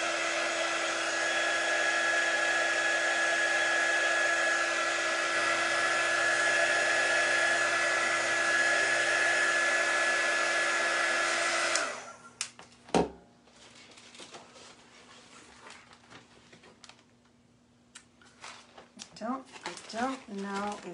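Hair dryer blowing steadily on freshly painted farmhouse-style DIY home decor pieces, a loud continuous whir for about twelve seconds that then cuts off, followed by quiet handling sounds and a person speaking.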